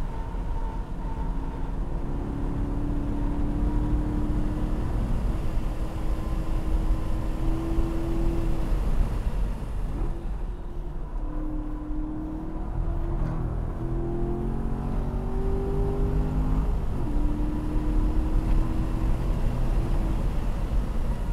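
A Chevrolet Corvette C7 with magnetic ride suspension laps a racetrack, its engine droning loudly with rising and falling pitch through gear changes under a steady roar of wind and road noise.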